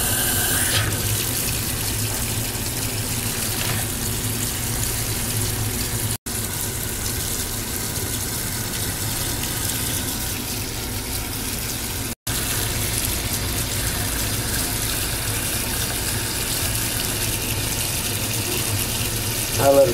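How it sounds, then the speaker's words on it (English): Hot water from a tap pours steadily into a container for shrinking paracord, a continuous close splashing gush lasting the whole stretch, with brief breaks and quiet talk in the background. "And I'm gonna put hot water in here."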